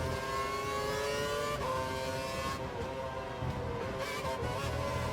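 Formula One race cars from 2012 roar in a racing video game. Engines hold high revving tones that shift pitch as the cars accelerate, and the sound is continuous and fairly faint, with no talk over it.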